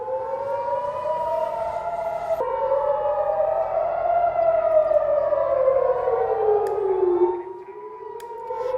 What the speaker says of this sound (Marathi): एअर सायरन रेड अलर्ट ऐकताच तुम्ही ताबडतोब जवळच्या सुरक्षित ठिकाणी